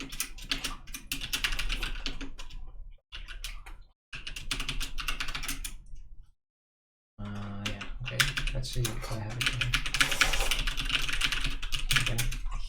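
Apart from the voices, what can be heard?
typing on a computer keyboard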